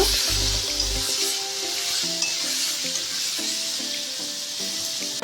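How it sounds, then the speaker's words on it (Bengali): Pointed gourd (potol) pieces fry in hot oil seasoned with a little salt and turmeric, giving a loud, steady close-up sizzle with occasional soft stirring clinks and no talking. "পটলগুলোকে লাল করে ভেজে নেব।"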